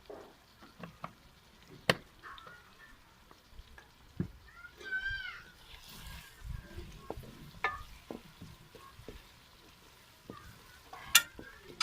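Onions fry with salt in a pan in a village kitchen, a low sizzle broken by scattered stirring clatters and scrapes, soft and close, with a brief cat-like cry midway.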